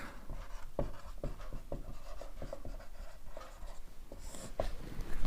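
Marker or chalk writing on a board during a Class 10 biology lecture on heredity: a run of sharp, irregular taps and scratchy strokes close by, alone with no talk.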